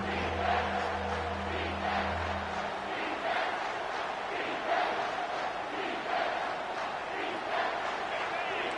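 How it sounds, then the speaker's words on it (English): Football stadium crowd at a college game roaring on third down, a loud sustained wall of cheering that swells and pulses, with a brief low tone at the start. "Decibels rising as the crowd gets behind this defense on third down."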